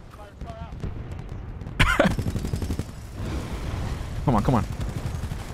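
Rapid gunfire from a powerful gun in Titanfall, dense bursts running through most of the moment at moderate loudness, with voices talking over it.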